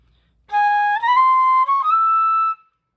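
Solo flute plays a line of held half notes decorated with quick 16th-note grace-note flicks at each change of pitch, played close and smoothly connected without talking.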